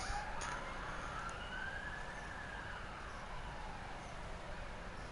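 An emergency siren wails past in a long rising sweep, moderately close and fading slightly, on a South Australian street about a block from an ambulance station, with no talking.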